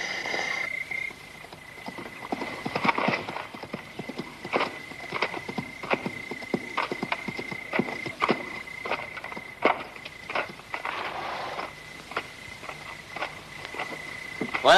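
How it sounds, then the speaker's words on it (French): Horses on the move in a western film scene, a long run of irregular hoof thuds and clip-clops at moderate distance, over a steady insect-like drone. "Voilà un groupe d'hommes à cheval."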